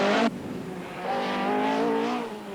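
An Opel rally car on the Manx Rally, a brief loud burst, then the engine note rising as it accelerates past, fairly close, with no talk.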